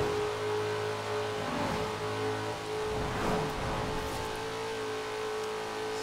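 A car engine in Forza Horizon 4 revs and accelerates steadily, holding a strong, continuous drone with rising pitch swells, close and loud with no talking over it.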